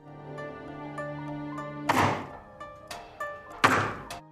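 Knocks on a door in a palace, in a dramatized story of Hurrem Sultan and Sultan Suleyman, come as a few heavy, spaced thuds over soft sustained background music.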